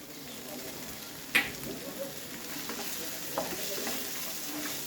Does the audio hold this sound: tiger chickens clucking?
no